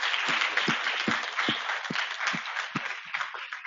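Applause from a modest crowd at a women's data meetup, a close, steady patter of clapping with a few sharper individual claps standing out, fading slightly toward the end.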